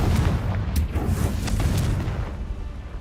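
Confringo spell explosion in Hogwarts Legacy, a heavy rumbling blast with deep low-end boom and crackling debris that rolls on and slowly fades.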